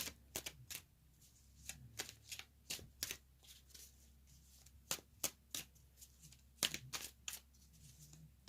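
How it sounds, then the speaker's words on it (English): Tarot cards being shuffled by hand in a quiet room, a series of crisp riffling bursts at an irregular rhythm, close and fairly soft, with no talk. "I'm not the greatest shuffler, in case you haven't noticed."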